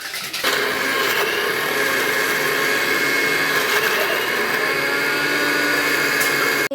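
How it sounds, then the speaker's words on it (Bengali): An electric mixer grinder blitzes ginger, garlic, onion, tomato and green chili into paste, starting abruptly and holding a loud, steady high whir for several seconds before cutting off. "আমি পেস্টটা করে নিই মিক্সিতে"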